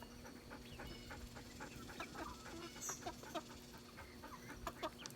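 Buff Orpington and black Australorp hens in a backyard flock cluck and murmur in short, scattered calls over a steady farmyard hum, fairly close and moderately loud throughout.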